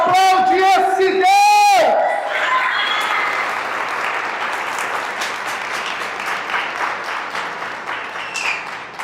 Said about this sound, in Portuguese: Vamos aplaudir esse Deus maravilhoso, vamos aplaudir esse Deus tremendo, aplaude esse Deus!